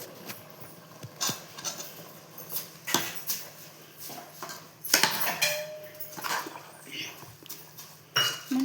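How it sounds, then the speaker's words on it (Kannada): Washed rice is stirred into masala in a pot for menthe bath, with scraping, clinking spoon strokes in an irregular rhythm, close by, while a person talks over it. "ಈಗ ಅದನ್ನು ಹಾಕ್ಕೊಂಡು ಆ ಮಸಾಲೆ ಜೊತೆಗೆ ಮಿಕ್ಸ್ ಮಾಡ್ಕೊತೀನಿ"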